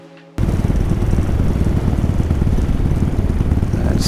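A paramotor engine roars close and loud after a quiet moment, running as a steady, rough, buzzing drone throughout.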